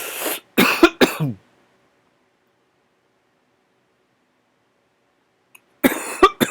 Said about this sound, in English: I just coughed and hiccuped at the same time.